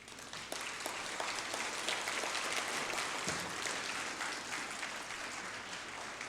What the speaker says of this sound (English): One more round of applause for Crystal Lameman, everybody